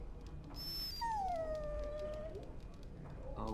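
Dog whimpering in the video game Dragon Age, a single long high whine that slides downward over about a second and a half, heard over a steady low ambient hum, with no voices.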